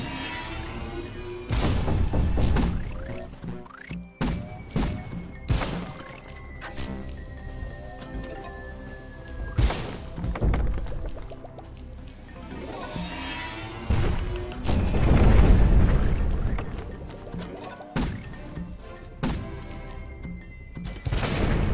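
Bomb blasts and crashing impacts in the artillery game Cannon Brawl, loud bursts at irregular intervals over a busy game soundtrack, with a heavy peak midway.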